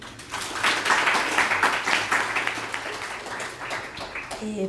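An audience at a university academic forum applauds with moderately dense clapping that swells after a quiet start and then holds steady, with murmuring voices underneath and a voice starting to speak at the very end.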